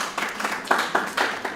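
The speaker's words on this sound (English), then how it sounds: "please give yourself a wonderful hand of applause." A small business-conference audience claps briefly, sparse, uneven hand claps heard close by, with a few louder individual claps standing out.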